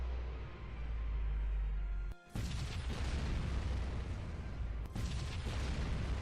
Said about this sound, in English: Prepare to fire the Vanguard cannon.